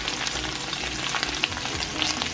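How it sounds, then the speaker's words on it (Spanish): Pork ribs brown and sizzle in their own rendered fat, a dense, steady crackling fry with small pops, close up and continuous. "se está dorando en su misma grasa"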